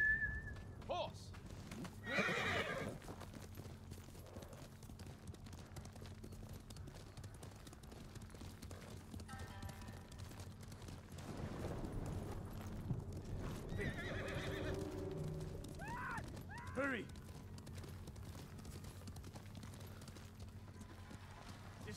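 A horse in Ghost of Tsushima, a samurai open-world video game set in feudal Japan, whinnies sharply at the start, then its hooves clip-clop and gallop steadily under a low music bed, with a couple of further snorts and neighs later on.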